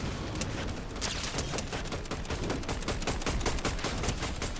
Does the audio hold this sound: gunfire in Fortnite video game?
yes